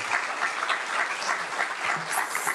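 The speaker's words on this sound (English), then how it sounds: "So once again, I just want a big round of applause for our supervisors." A crowd at a county supervisor swearing-in ceremony applauds for the supervisors: steady, dense clapping from many hands that holds at an even level throughout.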